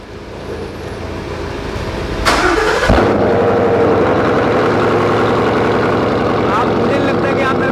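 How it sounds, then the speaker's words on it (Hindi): A Ford Mustang GT with an aftermarket Borla exhaust cranks for a moment, then fires with a sharp, loud burst. It settles into a deep, thick, rumbling idle right up close that carries on steadily. "तो अब सुनते हैं कितनी लाउड है ये गाड़ी। तो अब इसे स्टार्ट करते हैं।"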